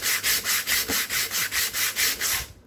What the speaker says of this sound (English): One thing to do when sanding here is you don't want to sand with it rolled down, else you will round this corner too much